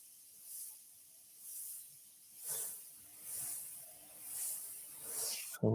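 An airbrush sprays paint in soft, evenly spaced hissing bursts, about six of them, each rising and fading, close and fairly quiet, ending in a sharp clunk.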